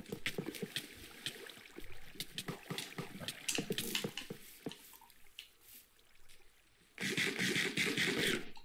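Splashing and dripping water in Minecraft, with irregular small plops and sloshes at close range that stop briefly, then return as a louder burst of rushing splashes near the end.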